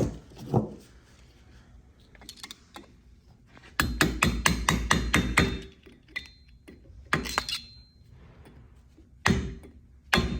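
A metal locking tab on the nut of a Flo-Tite SF150 ball valve is bent back with a tool, heard as several bursts of quick, close metallic taps and clinks separated by quieter gaps, with no talking.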